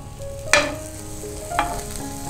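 Buttered bread slices toasting in a pan for a cheese pudla sandwich, a steady soft sizzle with two sharper spatula scrapes as the bread is pressed and turned.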